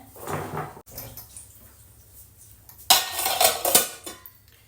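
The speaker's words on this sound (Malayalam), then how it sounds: "ഞാൻ ഈ പാത്രങ്ങളൊക്കെ ഒന്ന് വേഗം വൃത്തിയാക്കട്ടെ" Dishes being washed in a home kitchen: scattered clinks and clatter of pots and cutlery, then a burst of running water with rattling, close and without talk.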